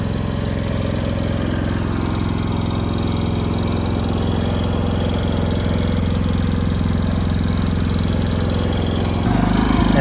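A Predator 5000 portable generator runs at a steady, loud, even drone for the whole stretch, then its tone shifts slightly near the end.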